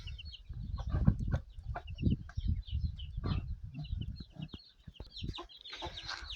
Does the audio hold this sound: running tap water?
no